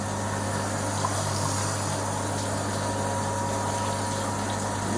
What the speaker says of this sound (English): There's the wort being reticulated back out again.